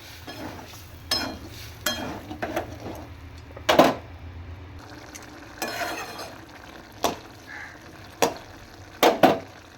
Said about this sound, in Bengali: এবার আমি দিয়ে দেবো ছোলা সেদ্ধটা, ছোলা আলু সেদ্ধটা। এবার ভালোভাবে আমি কষিয়ে নেব।